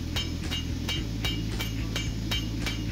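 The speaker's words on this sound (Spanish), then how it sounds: "Lo primero que haré será aplanar un poco la cabeza del martillo para facilitar la manipulación del mismo." A hot ball-peen hammer head is forged flat. About eight sharp metallic strikes land in an even, quick rhythm over a steady low hum.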